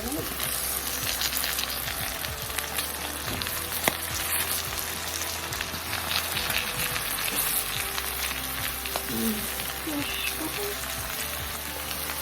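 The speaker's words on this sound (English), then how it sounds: "when the caramelization is taking place, the peppers are going to be popping" Peppers caramelize in a hot pan with a steady, loud sizzle and scattered sharp pops, and the pan is briefly covered with a lid. A voice can be heard faintly in the background.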